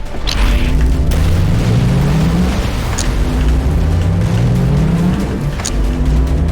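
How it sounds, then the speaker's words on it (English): Heavy cruise missiles hit their target in the X-Morph strategy game, a loud continuous barrage of deep booms and rising mechanical rumbles with sharp blasts cutting through. "Preparing to launch heavy cruise missiles against the X-Morph"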